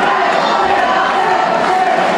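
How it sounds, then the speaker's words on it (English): Wrestling crowd at an indoor independent show chanting in unison, a loud, steady wall of voices filling the arena with no pauses. "The crowd's chanting for him to dance it."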